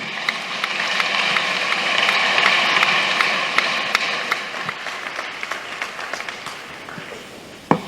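A church congregation applauds together, loud dense clapping that swells, then thins into scattered individual claps before a final sharp sound.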